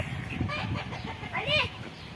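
Chickens cluck in short bursts close by, with a higher squawk partway through and a low murmur of activity around them.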